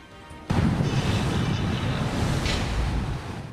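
Super typhoon winds with heavy rain, Typhoon Yolanda (Haiyan) striking Palo, Leyte, in 2013: a sudden loud, continuous roar of swirling wind and pounding rain that surges up and stays dense and broadband throughout, with no talk.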